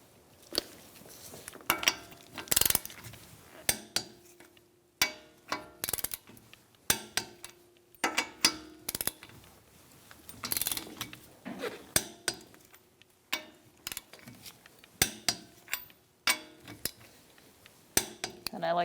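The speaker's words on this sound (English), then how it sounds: "We're going to torque our wheels to 80 foot-pounds. You're going to do it in a star-like pattern." Torque wrench tightening wheel lug nuts on a 2002-2006 Honda CR-V in a star pattern, a series of sharp metallic clicks and clinks repeating at irregular intervals, close and moderately loud with quiet gaps between.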